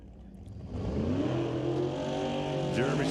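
Super Pro class drag race car at an NHRA Northwest National Open Series event, its engine roaring up loud and steady after a quieter start, with a rising rev sweep near the end.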